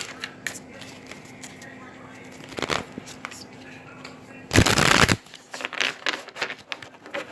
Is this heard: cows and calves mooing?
no